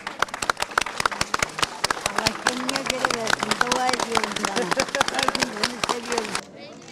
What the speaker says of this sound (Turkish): onlara da bir alkış istiyorum